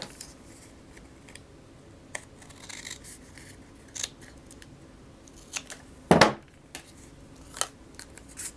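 Scissors trimming paper while making a handmade card, a few faint scattered snips and clicks at close range in a quiet room, with one louder, longer cut partway through.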